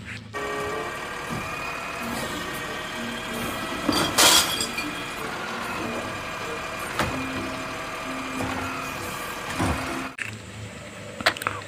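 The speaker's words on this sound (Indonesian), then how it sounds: "Wow, ini ada truk sampah." A garbage truck engine idles with a steady low rumble and tonal hum, marked by occasional clanks and rattles, heard close and without talk.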